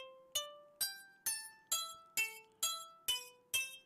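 Modul:e Elements synth voice set to strike an imaginary object, producing eight evenly spaced, bright glassy hits, each a sharp attack that rings briefly and decays, quiet and alone.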